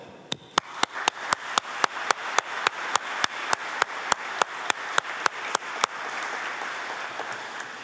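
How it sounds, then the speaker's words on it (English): Clapping at an annual meeting: sharp, evenly spaced claps in a brisk steady rhythm, close and distinct, stopping just before the end and leaving only faint room noise. "I would also like to extend a round of applause for everybody here"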